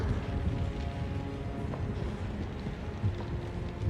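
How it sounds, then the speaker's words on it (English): Deep, low volcanic rumbling, a continuous heavy roar with faint wind-like noise, steady and distant, no speech. "that is the sound of the volcano at work"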